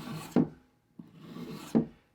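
Single bevel broadhead edge drawn across a sharpening surface to flip the burr, two distinct raspy strokes each ending in a brief scrape, close and clear with no talk.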